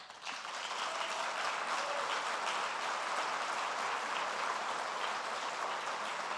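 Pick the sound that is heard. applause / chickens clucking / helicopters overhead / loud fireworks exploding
applause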